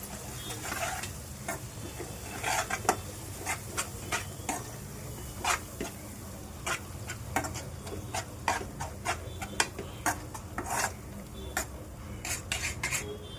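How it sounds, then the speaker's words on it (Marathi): A spoon stirring chickpea and garlic paste in a frying pan, repeated sharp metallic scrapes and clinks against the pan at an uneven pace over a soft steady sizzle, close and moderately loud. "आपण जी पेस्ट बनवलेली आहे चणे आणि लसूण ती पेस्ट करून दिली किती छान ढवळून घेऊयात"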